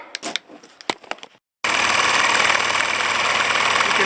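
A 1984 Corvette engine fires up after a short burst of clicking and handling noises, then settles into a loud, steady idle with a constant hum running to the end.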